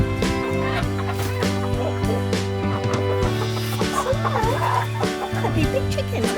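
Chickens cluck close by over steady, tonal music that plays throughout.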